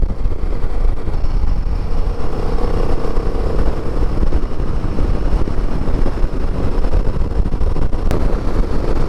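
Himalayan 450 motorcycle descending a steep mountain road past cliffs, a steady broadband engine and wind roar filling the whole stretch at constant loudness, with no talk.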